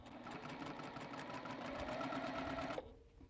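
A sewing machine stitching a quilt hums in a fast, even run of needle strokes, close and steady, then stops abruptly near the end, leaving quiet.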